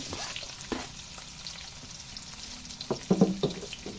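Chicken and vegetables fry in a pan for a Kapampangan bianda dish, giving a soft, steady sizzle. A few utensil scrapes and clinks from stirring come near the end.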